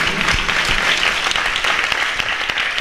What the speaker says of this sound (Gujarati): એકવાર જોરદાર તાળીઓથી આપણે સ્વામીને વધાવીએ